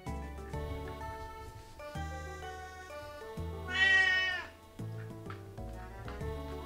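A cat shut in a kitchen meows loudly once, a drawn-out cry over steady background music.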